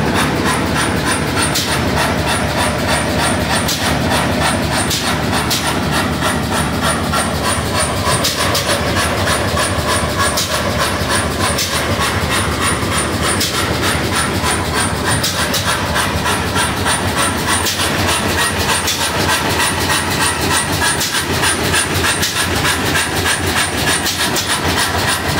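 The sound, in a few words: big engine running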